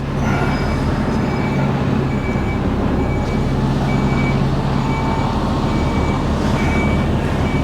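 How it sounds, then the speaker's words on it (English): A truck reverses on a South East London street, its reversing alarm beeping at a steady even rhythm over a loud, constant rumble of engine and traffic, with no talk. "I'll reverse back a bit."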